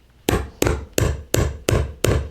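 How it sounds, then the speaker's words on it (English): A hammer strikes down a metal eyelet from an eyelet kit six times in a steady rhythm, each blow sharp, loud and close, with brief ringing decay between hits. "I'm literally just gonna hammer it down."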